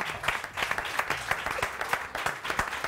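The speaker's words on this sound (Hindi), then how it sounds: "क्या बात है, तालियां।" A studio audience on a morning TV show applauds as a guest is called up, a steady crowd of clapping hands at moderate level with a voice faintly underneath.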